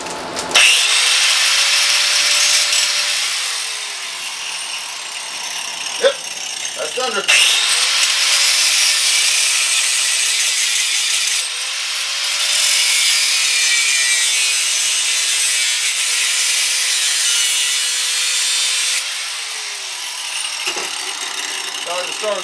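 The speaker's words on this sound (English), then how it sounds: "Well, we're drilling these, just the single holes, not the slots." A power drill bores single holes through pegboard, giving several sustained, loud grinding whines, each a few seconds long and separated by short pauses, with a sharp knock partway through.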